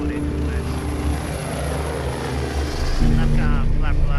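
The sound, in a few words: helicopter rotors running at 100%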